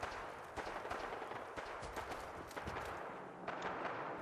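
Distant, scattered gunfire crackles through a dense background of ambient game noise in Fallout 4, with irregular sharp shots spread across the stretch and no talking.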